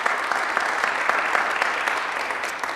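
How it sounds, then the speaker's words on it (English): An audience at a school academic awards ceremony claps steadily for language students, a dense, sustained round of applause at close range with no talking over it. "So you guys can clap for all of our language students if you like."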